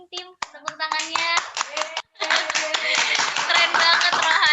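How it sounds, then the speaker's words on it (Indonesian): A small group claps hands during an online children's talk show, starting with a few scattered claps and building into quicker, denser clapping, with voices and tonal sounds mixed in at the start. "Boleh ramein tim tepuk tangannya."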